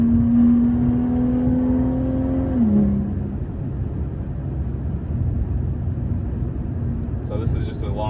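A BMW G30 540i rated at 530 hp pulls through a mountain road, the engine note holding steady, then dropping after a shift and settling into a lower drone, with a voice talking over it.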